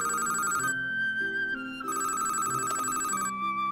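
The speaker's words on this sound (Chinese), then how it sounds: "喂，老爸，接电话。" A telephone ringtone plays a bright, repeating electronic melody in two loud phrases separated by a short gap, clear and close with no talk over it.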